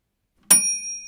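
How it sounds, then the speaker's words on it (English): A single bright timer bell strikes once and rings on, its clear metallic tone sustaining and slowly fading. "Good old bell."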